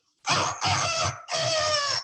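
A person imitates a duck's quack with their voice, giving three loud, nasal, honking bursts in quick succession, close up and with no other talk.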